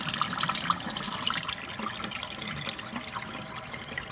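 Water runs steadily from a Kohler kitchen faucet with a soft hissing splash, louder at first then settling into a quieter continuous flow.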